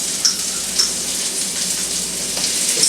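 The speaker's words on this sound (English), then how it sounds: "We'll let that fry up for about a minute." Ginger and garlic sizzle steadily in a hot pan, a close, continuous crackle with small pops scattered throughout.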